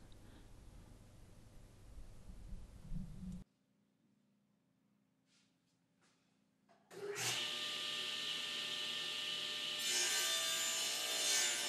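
A table saw fitted with a miter gauge and sacrificial fence crosscuts a wooden tapering-jig sled to length: an initial burst of noise, a few quiet seconds, then a loud, sustained whirring cut that continues to the end.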